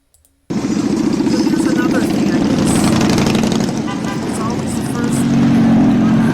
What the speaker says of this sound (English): Thousands cruise Western Avenue for the 47th annual Chicagoland Toys for Tots motorcycle parade.